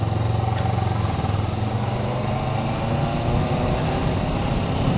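A motorcycle engine drones steadily and loudly at close range during a night ride, a constant low rumble with a faint hum layered above it that holds evenly from start to finish.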